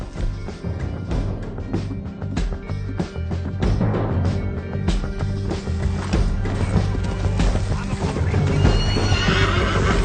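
Horses neigh and gallop in Red Dead Redemption 2 during a canyon ride, with loud continuous hoofbeats, whinnies and game action layered over a dense soundtrack throughout.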